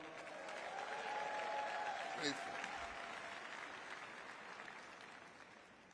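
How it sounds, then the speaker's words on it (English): A convention crowd applauding steadily, a dense wash of clapping that swells and then slowly tapers off, heard from within the room. "Give your President Weingarten a great big round of applause."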